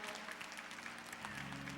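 Applause from a Chicago crowd at a tribute event, a steady dense wash of clapping filling the whole moment at moderate, fairly distant level.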